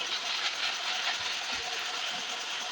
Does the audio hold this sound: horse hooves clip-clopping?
no